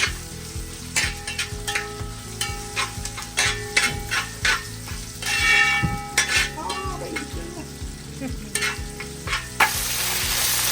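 Chopped onions sauté in a hot pan, a constant sizzle under rhythmic spatula scrapes and metallic clanks against the pan, fairly loud and close.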